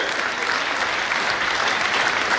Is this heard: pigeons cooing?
no